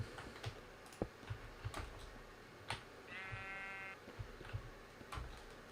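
A sheep bleats once in a blocky wool-farm video game, a clear wavering call over soft clicking, ticking and footstep-like taps.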